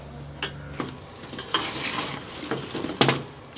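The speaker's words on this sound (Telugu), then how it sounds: "చూసుకోండి ఇలా బాగా కలిపేసుకోవాలి" A spoon scrapes and clinks against a pot while fried maida sweets are tossed through thick sugar syrup, with sticky stirring, soft sizzles and several sharper knocks close by, no voices.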